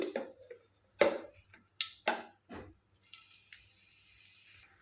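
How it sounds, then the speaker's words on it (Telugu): Mustard and cumin seeds hit hot oil for a Telugu curry, giving a few sharp, scattered pops and crackles close by, then settling into a faint, steady sizzle. "ఇప్పుడు కొద్దిగా ఆవాలు వేసుకుంటున్నాను, కొంచెం చిటికెడు. తర్వాత జీలకర్ర వేసుకుంటున్నాను"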